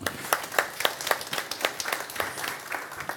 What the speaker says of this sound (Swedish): En applåd till Finn